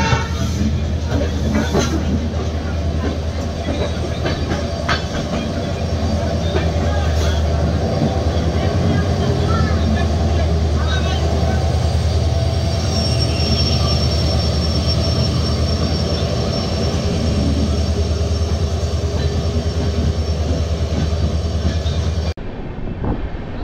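The LTT Mumbai–Dibrugarh Express runs steadily after leaving Guwahati station, with a continuous loud rumble, rattling and high wheel squeal for over twenty seconds, heard up close from on board.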